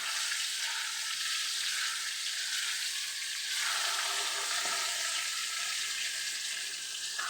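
Pieces deep-frying in hot oil make a loud, dense, continuous sizzle up close, steady throughout with a slight swell midway and no voices.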